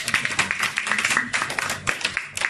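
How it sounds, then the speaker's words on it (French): A church congregation claps during a worship service, dense rhythmic clapping from many hands, fairly loud and close, with faint voices underneath. "applaudissons le Seigneur"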